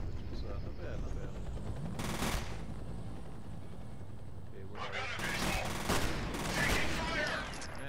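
Bursts of automatic gunfire from a gun in the first-person shooter F.E.A.R., mostly in the second half, loud and rattling over steady game ambience, with a player talking at points.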